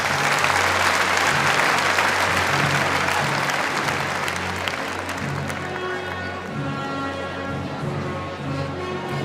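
Loud, sustained crowd applause fills a grandstand at a KFPS Friesian stallion championship inspection as stallion Tide 501 departs, steady throughout with a low tonal hum beneath and easing slightly toward the end.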